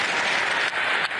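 Applause from an audience for a unity speech by Zelensky, a steady dense patter of clapping that holds evenly for about a second with two brief dips, no voices over it.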